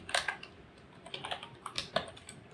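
Keys clack in quick irregular bursts as code is typed on a computer keyboard while writing JavaScript, close and fairly quiet with no talking.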